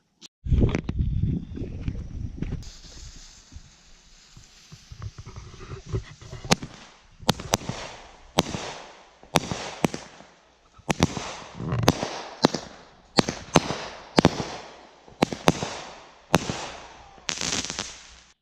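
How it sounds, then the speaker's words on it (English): Fireworks pop and crackle repeatedly at a distance, sharp bangs scattered irregularly with brief crackling tails, after an opening stretch of rustling and low rumble. "We should have Lincoln light off some fireworks for that, baby."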